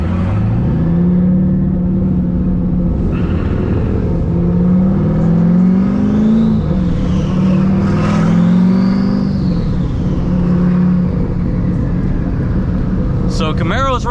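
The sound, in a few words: Chevrolet Camaro engine running while driving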